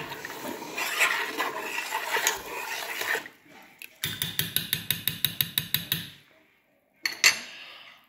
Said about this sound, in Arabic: غادي نحاول ما امكن نخلط غير باش دغيا يذوب لي السكر